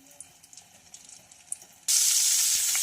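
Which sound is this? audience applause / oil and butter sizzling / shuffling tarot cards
oil and butter sizzling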